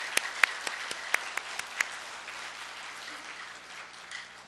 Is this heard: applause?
yes